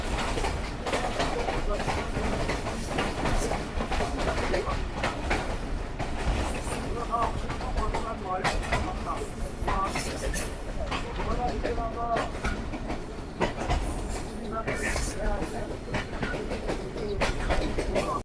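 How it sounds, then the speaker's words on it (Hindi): Steady, loud rumble and rhythmic clatter of the Sialkot Express rolling over branch-line rails between Lahore and Sialkot, continuous throughout, with faint voices in the background. "धक धक धक धक, पता नहीं अजीब और गरीब साउंड है इस ब्रांच लाइन का"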